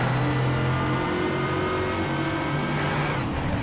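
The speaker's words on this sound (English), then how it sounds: "Oh, I can hear my supercharger." Engine of an exotic race car in Need for Speed: SHIFT, with a supercharger whine riding over a continuous loud, sustained engine roar that eases slightly near the end, no voices.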